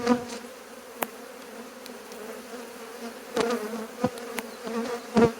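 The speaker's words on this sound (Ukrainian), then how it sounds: "бджолу буду стрісати. Того зараз буде великий гул" A steady buzz of many honeybees swarming around an open hive, with a few sharp knocks and clicks breaking through the continuous hum.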